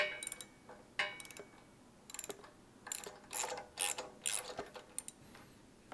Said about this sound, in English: using the 13/16" socket and extension and ratchet, remove the spark plug, turning it counterclockwise